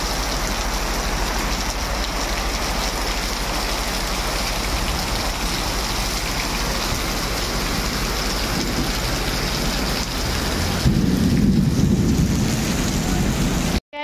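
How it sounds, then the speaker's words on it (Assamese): Steady rain pours down outdoors, a dense continuous hiss with a heavier, lower wash of falling water toward the end. "বাপৰে বৰষুণ পৰি আছে।"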